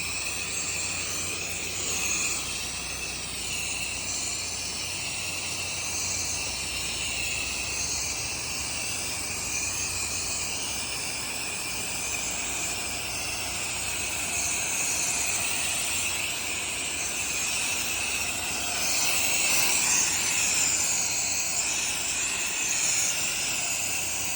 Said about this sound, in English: I'm going to give the siding one quick last final rinse